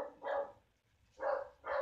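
Dog barking nearby in three moderately loud barks, one single then a quick pair, with no talk over them.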